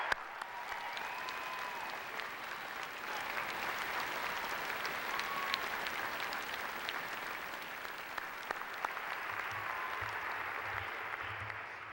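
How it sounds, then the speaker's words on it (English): Sustained applause from a large commencement audience at Utah Valley University's 2013 ceremony, honoring valedictorians and graduates; dense, steady clapping fills the hall throughout. "Please join me in a round of applause for our valedictorians and the rest of UVU's outstanding graduates."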